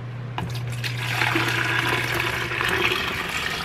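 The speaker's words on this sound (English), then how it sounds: "I'm gonna go ahead and pour the tea in here" Tea poured into a big pitcher makes a steady, moderately loud gush of liquid that continues through the whole stretch, with no talking.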